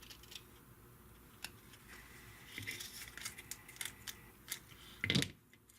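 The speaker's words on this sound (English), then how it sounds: "What I'll do is just cut each one" Scissors cut prepped cardstock apart in quiet, scattered snips, ending in one louder, longer cut near the close.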